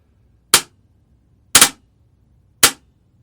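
A Wolverine Evolution Series airsoft gun in semi-auto programming mode fires three sharp, close shots, spaced about a second apart, with near silence between them.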